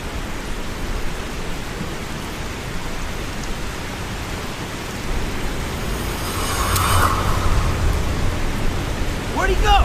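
Heavy rain pours steadily in a tense horror film scene, a dense wash of noise that builds slightly louder toward the end, with a brief rumble partway through.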